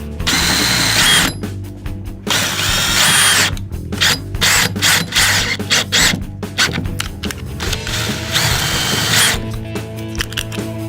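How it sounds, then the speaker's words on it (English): A power drill drives wood screws into a homemade shotgun-shell fishing rod holder, loud and close, whirring in several bursts with brief stops between them. "we're gonna put 2 screws in it, one at the top, one at the bottom"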